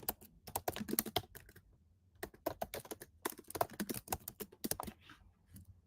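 Fingers type a comment on a computer keyboard in quick, uneven bursts of close key clicks, pausing briefly between runs, with no voices.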